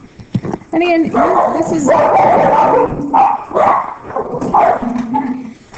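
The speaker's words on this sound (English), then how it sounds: "I don't know if you heard my dogs go crazy" Three dogs bark and yip excitedly at home, their sharp barks mixed in under a person talking close to the microphone.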